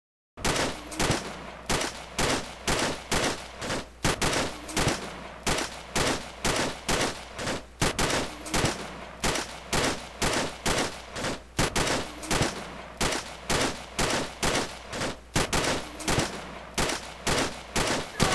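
Rapid bursts of automatic gunfire from the military shooter game Arma 2 repeat in a steady rhythm of loud, close volleys separated by short pauses.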